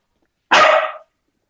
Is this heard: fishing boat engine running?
no